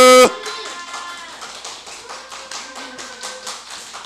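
Children at an online elementary worship service clap after a sharp opening hit, a run of quick, light, fairly even claps that fades slightly, moderately close.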